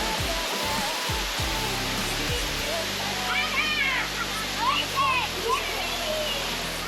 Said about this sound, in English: Put a tent right next to this waterfall.